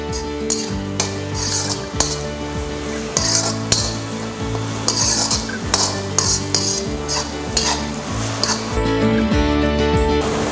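Onions with salt sautéing in a kadai for quail egg masala, with a continuous close sizzle under frequent clinks and scrapes of a ladle stirring against the pan, all without speech.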